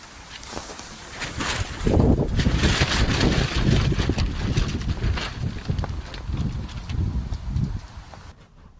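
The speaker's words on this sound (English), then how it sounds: "Very windy." Strong wind roars and buffets steadily outdoors, with gusty rumbling swells throughout before dropping off abruptly at the end.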